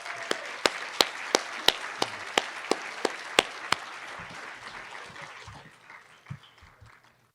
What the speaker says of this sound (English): stand up and let's give each other a round of applause